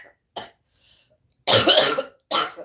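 A person coughs several times close up: a short cough, a brief pause, then a longer harsh cough followed by one more, with silence in between.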